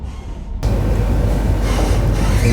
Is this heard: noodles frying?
no